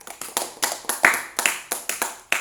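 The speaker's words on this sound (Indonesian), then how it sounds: "Tepuk tangan dulu untuk Ista" A few people in a classroom clap for a student, distinct sharp handclaps in a loose steady rhythm, close and uneven, about a dozen strikes with small gaps.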